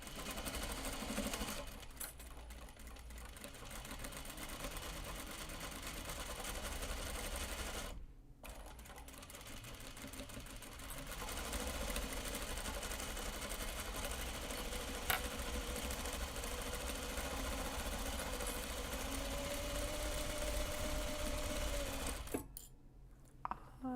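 A serger runs in long steady bursts while stitching grime guards, a fast mechanical whir with brief pauses between passes.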